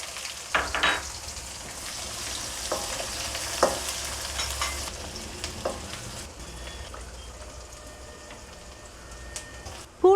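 Onions sizzle and crackle in hot oil with fenugreek seeds, a steady frying hiss with occasional stirring clinks and scrapes.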